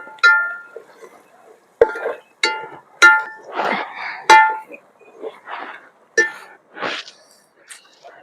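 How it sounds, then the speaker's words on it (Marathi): A spoon stirs spices into mundi vajri dal in a cooking pot over a strong open fire at a shepherd hamlet, making repeated close squeaky scrapes and metallic clinks in an irregular rhythm. "सगळं मसाला टाकून मस्त हलवून घ्यायचं"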